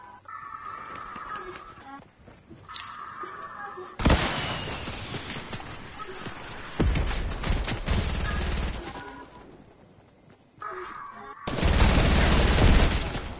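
Gunshots in a PS4 video game, played during a live broadcast: bursts of rapid automatic gunfire and heavy booming shots come in clusters with quieter gaps between them, loud and close.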